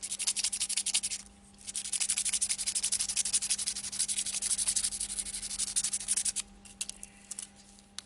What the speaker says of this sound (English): Rough the black brass tube up first with a bit of emery cloth.